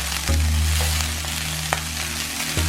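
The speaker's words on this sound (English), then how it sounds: "Flip this meat and look at that crust on there." Birria beef frying in a pan, a loud continuous sizzle with a low hum underneath and a couple of sharp clanks as the meat is flipped, no talking.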